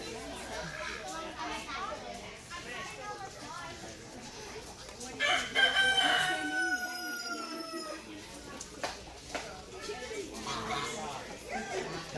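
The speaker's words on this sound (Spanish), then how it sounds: "Estos son los pheasants." Several pheasants call with harsh, crowing cries amid a busy crowd of chattering voices and children in the background, at a poultry show.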